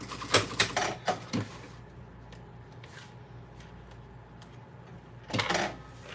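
A sewing machine stitches a fabric pencil pouch, with a short run of fast mechanical clattering at the start, a quiet pause with faint ticks, and then another brief burst of stitching near the end.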